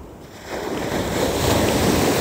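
Ocean surf rolls onto a beach on the Kashima-nada coast, a broad wash of noise that swells from a quieter start into a steady, close roar of breaking waves, no voices heard.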